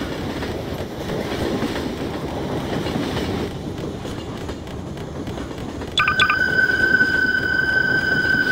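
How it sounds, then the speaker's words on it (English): A train runs steadily in a video game with animatronics, its rumbling wheel noise continuous and fairly loud, joined midway by a sustained high whistle-like squeal that holds to the end. "I tried to stop the damn train"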